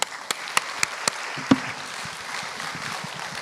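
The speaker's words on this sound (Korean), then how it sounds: "박수 한번 주세요" Applause from a church congregation during a testimony service, a few sharp isolated claps at first, then a soft, steady patter of hands clapping at moderate distance.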